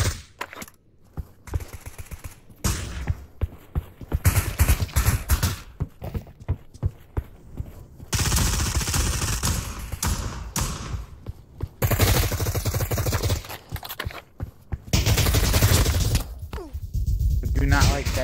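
Gunfire from a gun, bursts of rapid automatic shots in irregular clusters with pauses between, mixed with people talking.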